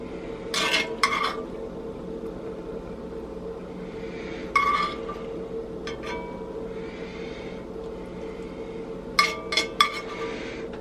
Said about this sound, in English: Just spoon this cheesy, mushroomy pastrami goodness.